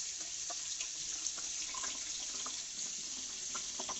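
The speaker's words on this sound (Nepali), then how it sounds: "अब यसलाई चिसो पानीले धुनुपर्छ एकछिन।" Cold tap water runs steadily over boiled noodles being rinsed in a home kitchen for chicken thukpa, a continuous close splashing stream.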